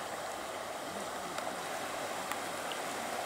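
Flowing water from the Razdolnaya River at Pokrovka, a steady broadband rush of current and small waves along the bank, continuous and unbroken, with a faint click or two.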